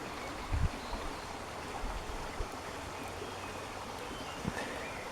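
A small brook flows steadily beside a wooded patch, a continuous soft wash of running water with a couple of faint low bumps, no voices.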